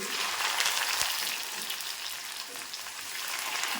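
Curry leaves, ginger and garlic hit hot oil in a pan, giving a steady, bright hiss of frying that stays even throughout with no voices.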